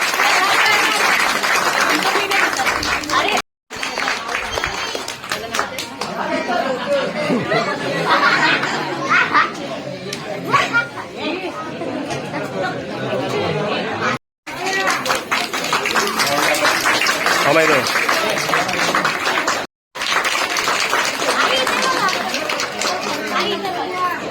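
A village crowd at a Buddha and Ambedkar Jayanti celebration keeps up long, uneven clapping mixed with lively chatter and children's voices, with several brief gaps of silence along the way.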